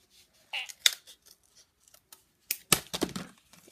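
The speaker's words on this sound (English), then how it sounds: "I'm just gonna use the scissors." Scissors cutting through packaging close by: a few scattered crisp snips at first, then a denser flurry of cuts and rustling plastic toward the end, with quiet gaps between them.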